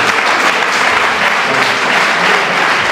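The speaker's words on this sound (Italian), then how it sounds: "perciò merita un applauso." Loud, dense applause from an audience at a youth listening event, a continuous close wash of many hands clapping without a break.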